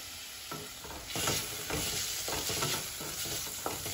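Tomato with a little salt sizzles in a pan while being stirred for misal, a steady frying hiss broken by repeated scraping strokes of the spoon at a regular pace, close and alone.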